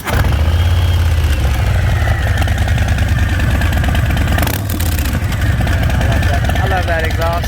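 A 2020 Harley-Davidson Low Rider S runs with a loud, close, deep rumbling engine and exhaust, idling steadily with a brief dip midway while a person talks over it.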